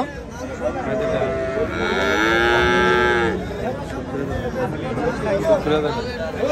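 Cattle at a cattle market for beef bulls in Chandimura, Comilla: one long, loud, close moo rising and falling over a couple of seconds, with crowd chatter and voices talking around it throughout.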